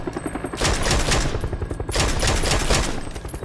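Rapid bursts of automatic gunfire from a PUBG match ring out loud and close, dense volleys with brief gaps between them.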